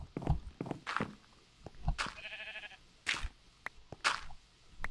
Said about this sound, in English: There is a sheep on a tree outside my house.